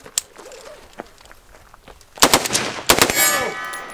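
Full-auto AR rifle fire outdoors, starting with a few scattered shots and light movement, then two loud, fast bursts of rapid gunfire in the last half, the second trailing off into ringing echo.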